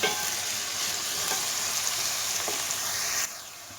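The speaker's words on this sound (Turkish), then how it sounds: "Bunları da birlikte kavuruyorum." Green peppers, a red kapya pepper and garlic sizzle steadily in a hot pan, a dense broadband frying hiss with occasional stirring scrapes that drops abruptly in level near the end.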